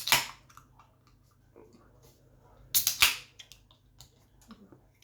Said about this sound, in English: So let's pop it off, see what we've got.